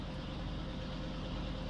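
A truck engine in Farming Simulator 19 runs at a steady low idle, a continuous rumbling drone close by with no speech.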